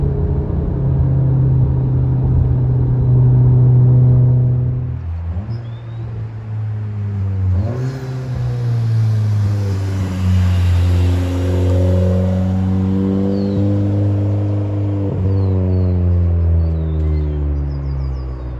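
A VW MK7 Golf R fitted with a Nameless Performance exhaust revs hard several times, its loud, droning exhaust note climbing and falling in pitch with a strong resonance, close by and with no talking.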